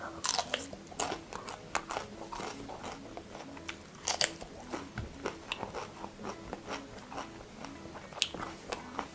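Someone bites into and chews chocolate laced with cayenne pepper, giving close, irregular crunches and wet chewing sounds with no talking.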